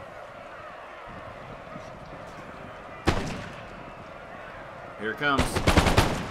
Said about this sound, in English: They're gonna fire right into the backs of these British soldiers.